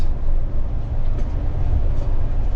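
A vehicle rumbles loudly and continuously over a rough, sandy road near the Pakistan border, with a heavy low-end roar throughout.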